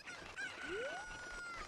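Faint chicken calls from The Legend of Zelda: Ocarina of Time, a short clucking phrase followed by a rising, drawn-out crow-like note over quiet background noise.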